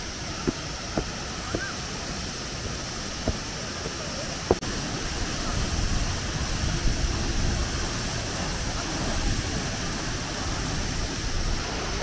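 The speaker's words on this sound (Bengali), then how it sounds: "এই যে ব্যাক সাইডের ঝর্ণাটা" Waterfall beside the mountain road from Pokhara to Muktinath, a constant broad rushing roar of falling water with a few sharp ticks early on and no pause throughout.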